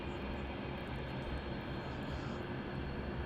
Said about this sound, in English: On final approach, we have our next heavy. It looks like the Jetstar 787.